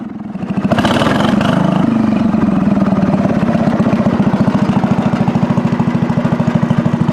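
Engine of a 1975 John Deere 300 garden tractor with a freshly adjusted carburetor starts up and settles into a steady, loud, close idle with a regular pulsing chug and no talking.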